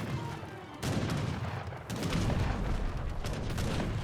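Culverin artillery firing in an Age of Empires 3 battle, a dense barrage of booming shots mixed with crackling gunfire and battle noise, continuous and fairly loud throughout.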